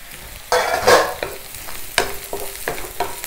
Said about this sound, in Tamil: கொஞ்சம் ஹை ஃப்ளேமில் வச்சுட்டு ஒரு நிமிஷம் ரெண்டு நிமிஷம் வதக்கிக்கலாம்